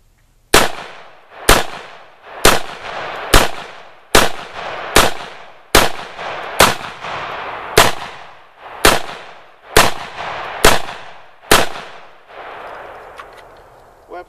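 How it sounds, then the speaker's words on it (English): Fourteen sharp, loud rifle shots from a Delton rifle fitted with a Sightmark Wolverine red dot sight ring out outdoors at a steady pace about one second apart, each followed by a short echoing decay. "Gonna shoot some rounds through Bosco's Delton with the new Sightmark Wolverine on it"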